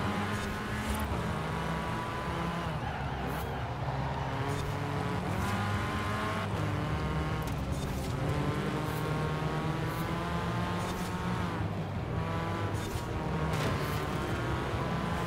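A Dakar rally car in the Forza Horizon 4 racing game drives continuously, its engine droning loudly with rising and falling revs and occasional gear shifts, steady throughout without talk.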